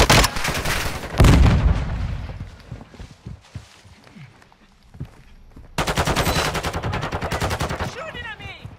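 Automatic and rapid gunfire from a Call of Duty Warzone match, with loud bursts at the start and a sustained run of shots near the end, plus footsteps and quieter game sounds in between.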